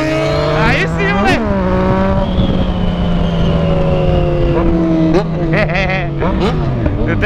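A Yamaha MT-09 motorcycle engine revs hard, its pitch climbing and dropping through several throttle bursts, loud and close, with a voice briefly under it.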